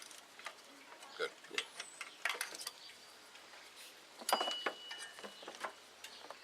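A wrench clicks and ratchets while loosening a nut on the belt pulley of a Jeep TJ engine during a thermostat replacement, faint irregular metallic ticks and scrapes close by.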